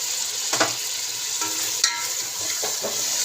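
Ground spices frying in oil in a pot for chicken yakhni pulao, a steady close sizzle running throughout with a few light stirring scrapes and taps.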